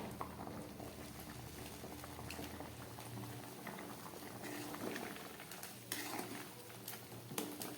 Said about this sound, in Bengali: ডিমের ঝোলটা আস্তে আস্তে ফুটে উঠেছে।